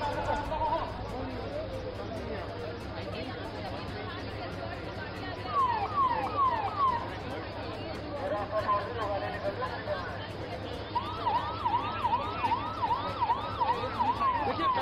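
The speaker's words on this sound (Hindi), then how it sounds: "एम्बुलेंसेज बाहर निकल चुकी है।" Ambulance sirens wail as ambulances pull out of a tunnel rescue site after workers are freed, rising-and-falling sweeps recurring over a steady low rumble, with crowd chatter and voices talking throughout.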